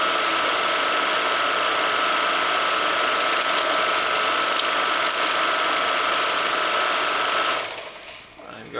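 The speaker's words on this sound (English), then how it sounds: "to remove the film from the looper, just run it until the splice gets to the rear arm." A 16mm film looper runs with a steady mechanical whirring and clatter, loud and continuous for about seven seconds before fading down.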